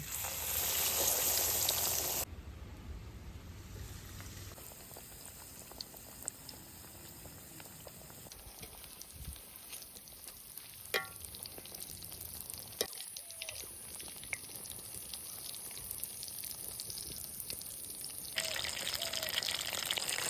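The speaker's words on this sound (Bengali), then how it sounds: "তেল গরম হয়ে গেছে এবার লেগ পিসটা গরম তেলে দিয়ে দেব" Chicken leg pieces frying in hot oil for crispy fried chicken, a soft, steady bubbling sizzle with faint pops that runs the whole time, fairly quiet and without talk.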